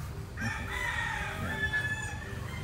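Five-month-old gamefowl in their pens, where a rooster crows and hens cluck at moderate distance over steady farmyard background noise.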